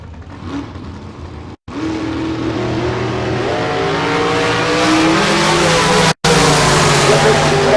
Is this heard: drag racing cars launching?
yes